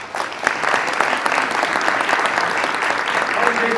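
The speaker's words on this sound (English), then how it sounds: "please, a round of applause for Mr. Jason Hurton" An audience at a peace awards ceremony breaks into warm applause, a steady crackle of many hands clapping at moderate distance that holds evenly for a few seconds.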